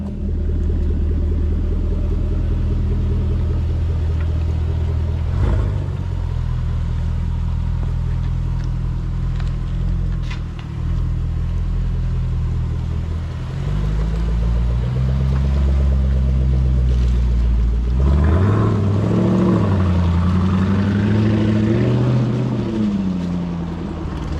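A deep, throaty Land Rover Defender V8 P525 exhaust with a stainless steel aftermarket silencer rumbles steadily, swelling louder with revving pulses toward the end, close and continuous with no voices.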